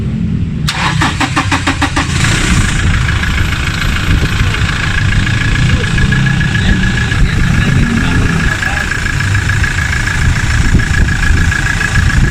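A Toyota Innova diesel with a 1GD engine cranks briefly, catches and settles into a loud, steady idle that runs unchanged to the end, with a voice heard over it.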